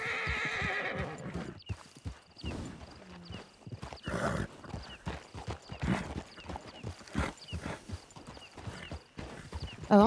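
In a video game, a horse whinnies loudly at the start, then hooves clip-clop in an irregular stream with further snorts and neighs, mid-distance and fairly faint.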